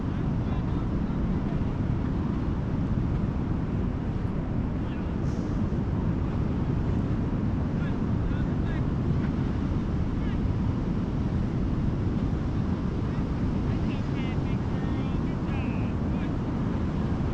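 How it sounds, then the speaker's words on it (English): Ocean surf at high tide on a beach at sunset, a steady loud wash of breaking waves with wind buffeting the microphone throughout, continuous and close. "It's high tide."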